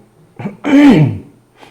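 A teacher coughs once, close and fairly loud, during a middle-school math lesson; a brief throat sound comes just before the cough and a faint one follows after.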